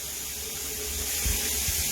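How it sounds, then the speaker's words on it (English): Waterfall shower pouring steadily, a continuous broadband hiss of falling water at close range with a few low thumps and splashes, no voices. "So this is what I would call a waterfall shower."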